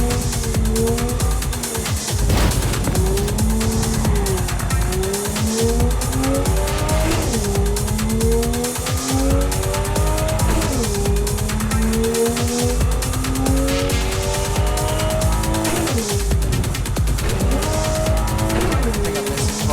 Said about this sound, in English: I think I'm missing part of my car by the sounds.